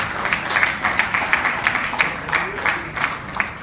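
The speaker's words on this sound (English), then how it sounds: "a huge round of applause" Steady crowd applause at an awards ceremony, a dense crackle of many hands clapping at once, sustained throughout without a break.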